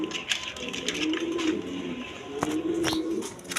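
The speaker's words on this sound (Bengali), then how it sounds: "এখানে এক পেয়ার চিলা কবুতর আছে" A pair of Chila pigeons coo in a repeated soft rolling rhythm at close range, with faint background noise.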